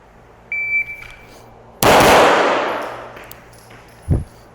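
A single sharp, loud pistol report from a Canik or CZ Shadow 2 firing 147 grain home-loaded rounds rings out with a long decaying echo, preceded by a brief electronic beep and followed by a softer thump.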